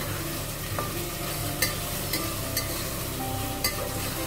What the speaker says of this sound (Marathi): कांदा चांगला लाल होईपर्यंत आपल्याला परतायचा आहे कांदा